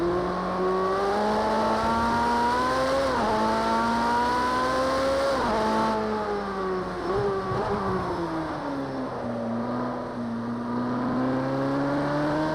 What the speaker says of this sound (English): Pushing hard now once again. Going up through the gears.